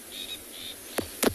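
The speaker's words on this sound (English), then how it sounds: "There's a lot of birds calling this morning." Wild birds call at sunrise on a Tswalu safari, two faint thin high notes followed by two sharp descending calls close together, over quiet outdoor background.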